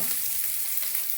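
Chopped onion and curry leaves frying in hot oil with cumin in a pan, a brief, steady, close sizzle with no talking.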